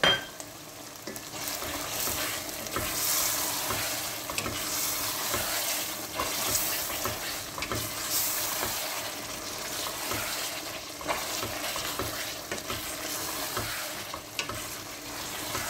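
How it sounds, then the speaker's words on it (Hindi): Chicken coated in biryani masala fries with a dense, continuous sizzle in a large pot, while a spoon stirs and scrapes through it in a steady rhythm, close and unbroken, with no voices. "बिरयानी मसाला डालकर इसको 3 से 4 मिनट भून लेंगे"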